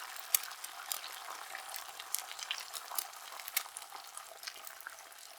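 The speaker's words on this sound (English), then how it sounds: "now I'm frying some eggs" Eggs sizzle and crackle in a hot frying pan, a steady bright spitting with scattered louder pops, close and alone with no voices.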